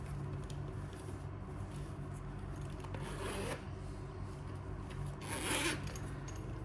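A zipper is drawn along a crochet tote bag, a soft close raspy run with two brighter bursts of zipping, quiet and alone.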